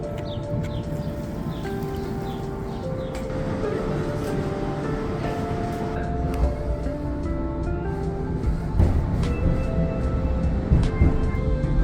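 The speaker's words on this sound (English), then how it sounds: "I'm a fan of trams and couldn't resist riding the local tram" Steady rumble and rail clatter from inside a local city tram while riding, a continuous dense roar with occasional louder knocks and squeals, no voices.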